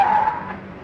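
Car tires skid in a Hindi romantic comedy film, a single short, loud screech that fades quickly, heard alone.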